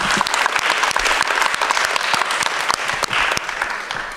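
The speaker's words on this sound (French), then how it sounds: "je crois qu'on peut l'applaudir quand même" Audience applause for a speaker at a French geography conference on Élisée Reclus, a dense, steady round of clapping from a full room, loud and close, with no voices over it.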